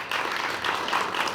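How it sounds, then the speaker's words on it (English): An audience at a city State of the City address in Baker gives a steady burst of applause, a dense wash of clapping that fills the whole short moment. "Let's give her a big round of applause."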